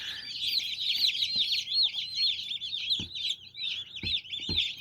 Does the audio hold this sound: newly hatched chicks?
yes